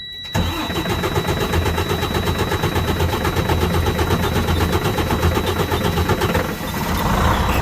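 A Freightliner Cascadia's DD15 diesel engine cranks loudly with a fast, even chugging rhythm, close and continuous for several seconds before catching and settling into a steady idle.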